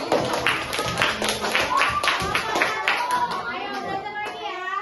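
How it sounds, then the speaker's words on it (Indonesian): In a classroom, children clap together in a quick, rhythmic pattern for their groups, bright, close hand claps repeating steadily, with young voices chattering in between. "Tepuk tangan untuk kelompok 2"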